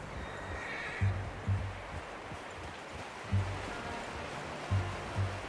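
A horse in Red Dead Redemption 2 gives a faint, distant whinny over a steady outdoor ambience. Soft clip-clop hoof falls and low snorts repeat in an uneven rhythm underneath.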